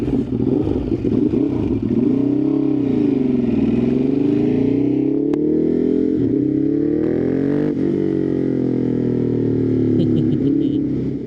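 A Ducati Hypermotard 939 motorcycle being ridden, its engine loud and close throughout, holding a rough, throbbing drone that rises and falls with the throttle and never drops away.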